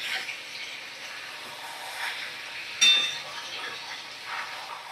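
Ground spices sizzle and fry in hot oil in a pan with garam masala, a faint, steady crackle with a brief louder scrape partway through.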